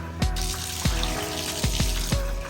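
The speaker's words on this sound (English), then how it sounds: "Make sure you get some water in there and rinse it around so you really get all the hair off of the sides." Water sloshes and swishes inside a glass jar during rinsing after clipper cleaning, with a series of sharp knocks and splashes repeating about every half second, close and fairly loud.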